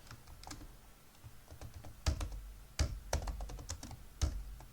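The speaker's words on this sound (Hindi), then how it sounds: "टेक्स्ट सेलेक्ट करने के बाद यहाँ पे टाइप करता हूँ" Typing on a computer keyboard while designing in Figma, a close run of uneven key clicks with a few louder, heavier strikes, alone with no talking.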